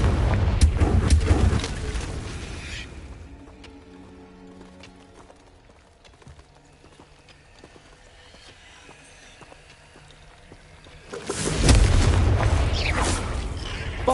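Confringo spell blasts from Hogwarts Legacy burst loud and booming near the start and again around eleven seconds, with a quieter stretch of faint combat rustle between them.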